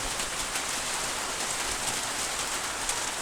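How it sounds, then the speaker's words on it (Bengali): Heavy rain during a storm in a flooded village, pouring in an unbroken, even roar of drops hitting surfaces close by, with no voices. "প্রচুর ঝড় বন্যা বৃষ্টি শুরু হয়ে গেছে।"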